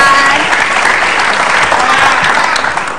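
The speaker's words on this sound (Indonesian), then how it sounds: "Tepuk tangan." Studio audience applauding on an Indonesian TV talk show as a guest is welcomed, a steady, loud, dense wash of clapping that holds throughout and eases slightly at the end.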